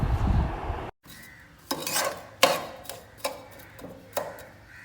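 Gooseberry jam stirred in a pan with a spoon, giving a few separate scraping, clinking strokes against the metal at a steady pace, close and fairly quiet, with a short bubbling hiss at the start.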